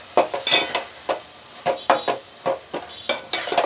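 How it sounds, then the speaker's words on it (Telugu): A ladle scrapes and knocks rhythmically against a pot while a paste of chilli, green chilli and ground tamarind is mixed in, giving a steady series of close, wet stirring clatters. "బాగా కలుపుకోవాలి"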